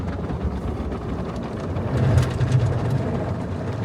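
Heavy-duty rotating brushes of an automatic car wash scrub a car from inside the cabin, a dense steady rumbling swish that swells louder midway, with no talking.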